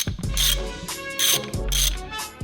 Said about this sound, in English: now we're just gonna secure it with the OEM bolt and the big washer that they provide you